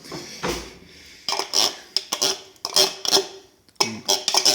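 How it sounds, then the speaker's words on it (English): A metal spoon clinks against dishes and cutlery in a kitchen while baked nachos with cheese are prepared, in a run of short, close, bright clatters with brief gaps and no talk. "I'm gonna fetch a spoon for this."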